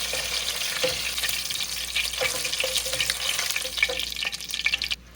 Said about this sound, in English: it always smells good when they fry.